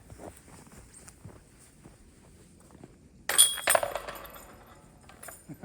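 Disc golf putts strike the chains of a basket outdoors, a sudden bright metallic jangle and rattle after a few quiet seconds, then a second clatter fading out.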